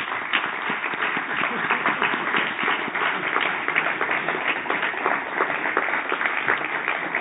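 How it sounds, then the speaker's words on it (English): Seminar audience applauding its speakers at the closing session of a Fresnel 2023 physics seminar, a dense, steady round of indoor clapping that runs loud and unbroken the whole time. "Can we give them a round of applause?"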